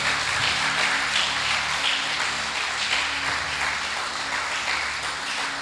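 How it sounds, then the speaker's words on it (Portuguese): A church congregation at a men's congress applauds steadily, a dense, even wash of clapping that holds at a constant level throughout with no voices on top. "Você pode aplaudir ao Senhor por isso?"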